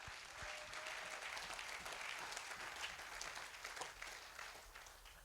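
Church congregation applauding during a Sunday service, a steady wash of clapping from many hands, fairly faint and even throughout.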